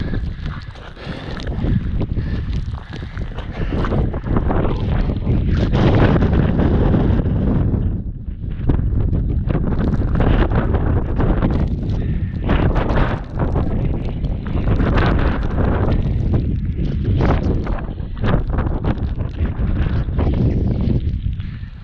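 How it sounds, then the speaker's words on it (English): Strong wind batters a mountain top at Pen y Fan, loud, roaring microphone buffeting that surges and dips in gusts throughout, with no clear speech. "Things windier than last week."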